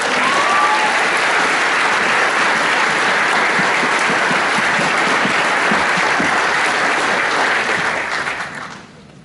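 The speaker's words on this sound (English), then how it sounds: "Another big round of applause as they leave the stage." Sustained, loud audience applause at a school graduation ceremony, many hands clapping steadily for several seconds before tapering off at the end.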